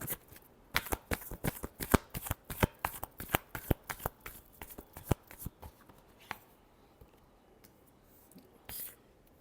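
Close, crisp shuffling of a tarot deck, with rapid riffles and slapping flicks in a busy rhythm for several seconds, then tapering into sparse soft handling and one final burst near the end.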